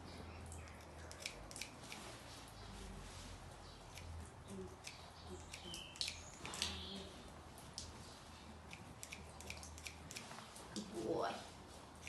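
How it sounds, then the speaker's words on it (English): Scissors snipping through a horse's mane during grooming, repeated short crisp cuts close by, mixed with brushing rustle and a person talking softly throughout. "So just cut with scissors and then constantly brushing."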